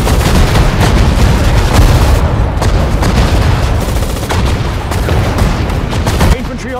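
Infantry gunfire in the Sudden Strike 4 desert war battle, with rapid cracking shots and bursts crowding together in a loud, sustained fusillade mixed with distant booms.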